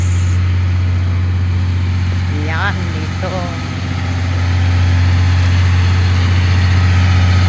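An old train's engine hums with a loud, deep, unbroken drone from the inside of the carriage, steady throughout, while a person speaks briefly over it and a faint chirping squeal rises twice in the middle.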